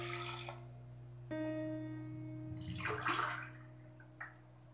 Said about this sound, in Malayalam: ഇതിലേക്ക് നമുക്ക് ആവശ്യമുള്ള വെള്ളം ചേർത്ത് കൊടുക്കാം